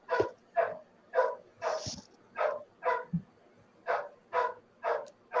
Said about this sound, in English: Let me see what the hell this dog's barking about.